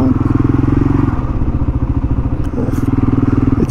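Loud, rhythmic idle of a Kawasaki KLR 650 single-cylinder motorcycle up close, with a brief dip and a clatter partway through as the rider climbs off.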